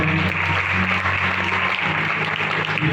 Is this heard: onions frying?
no